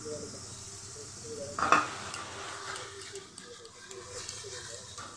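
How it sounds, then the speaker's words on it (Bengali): Food is stirred and mixed in a frying pan over a steady sizzle, with a sharp clink of the utensil against the pan and soft scraping under a faint background hiss. "ভালো করে নেড়ে চেড়ে মিশিয়ে নিই"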